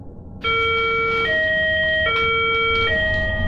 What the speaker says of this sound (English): an alarm came on, and the school was placed on lockdown